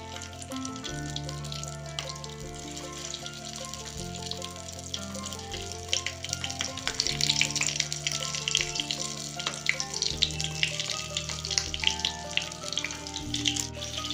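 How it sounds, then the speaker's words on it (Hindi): Green chillies fry in hot oil with asafoetida and cumin, a moderate, steady sizzle growing slightly busier with crackles and occasional utensil clicks, close and without speech. "इसमें मिर्ची फ्राई कर लेंगे"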